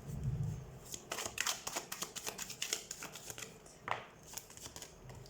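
Tarot cards being shuffled by hand, a rapid run of soft papery riffles and flicks that rise and fall over a few seconds, close and fairly quiet.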